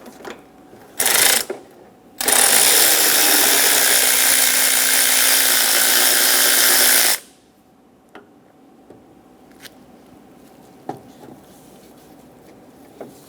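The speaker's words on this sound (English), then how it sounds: "Using a 10mm socket, we're going to start to remove all of the bolts for the lower timing cover." A tool with a 10mm socket takes out the lower timing cover bolts on a 1994-1997 Honda Accord 2.2L four-cylinder. A brief loud whir comes first, then a sustained loud spinning burst of about five seconds, and then faint clicks and taps.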